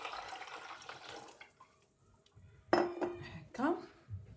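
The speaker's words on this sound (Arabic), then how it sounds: "نجيبو هنايا حوالي 1 لتر ماء يكون" About a litre of drinking water being poured into a container in a home kitchen while making natural carob juice, with dishes and utensils clinking; the pour comes in two short bursts after a quiet pause, with some speech in the background.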